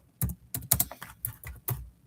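A computer keyboard is typed on up close in quick, irregular bursts of about six clacking keystroke clusters, with no voices.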